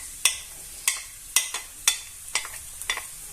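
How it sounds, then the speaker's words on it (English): Onion and garlic in a hot pan for a clam, white bean and potato stew, with a soft sizzling hiss broken by sharp, evenly spaced clicks and scrapes of stirring, about two per second, close and fairly quiet. "once that is hot, I'll add the onion and garlic"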